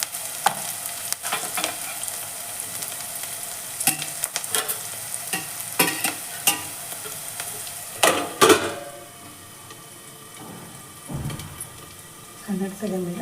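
Capsicum sautés in a pan with a steady sizzle, broken by repeated sharp scrapes and clinks of a spatula against the metal. The stirring eases near the end, and a voice is heard faintly.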